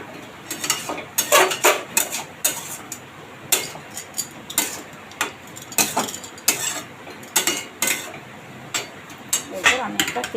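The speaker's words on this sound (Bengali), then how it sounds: "এই বাটনাগুলো দিয়েছিলাম, ভালো করে এর সঙ্গে মাখিয়ে নিচ্ছি" Greens in a pan being stirred and mixed with ground spice paste, with repeated clinking and scraping of a utensil against the metal pan in an uneven rhythm, close and fairly loud, with talk now and then.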